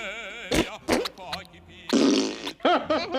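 Several loud, drawn-out fart noises from a cartoon opera-house scene come in separate bursts, mixed with brief wavering vocal sounds.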